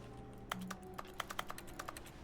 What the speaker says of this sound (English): Why am I clicking mouse one and it's making computer sounds?